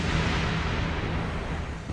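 A continuous, loud, dense roar of an explosion sound effect portraying a gamma-ray burst from a massive star, with a deep rumble that holds steady with no distinct onset.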